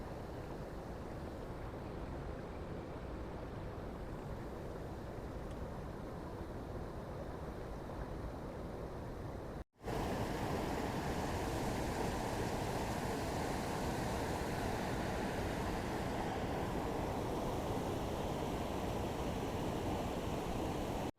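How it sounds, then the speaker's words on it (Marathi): Fast water rushing steadily over a scenic waterfall: a dense, continuous roar that cuts out for a split second midway, then returns slightly louder, with no voices. "बघा मित्रांनो किती स्पीडने पाणी वाहते"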